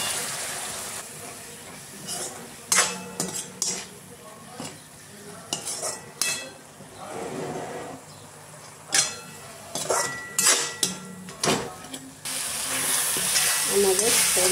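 Banana flower curry with mustard paste cooking in a pan, a steady sizzle and frying hiss broken by repeated sharp clinks and scrapes of a spatula stirring against the metal, close and clear with no talk.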